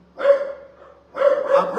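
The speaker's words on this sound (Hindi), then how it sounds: "देखो मेरा कुत्ता भी भौंक रहा है" A pet dog barks nearby, two short bursts of barking separated by a brief pause, loud and clear with no talk over it.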